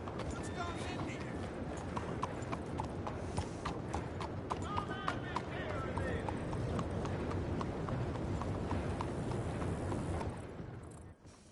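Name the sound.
horse hooves clip-clopping in a video game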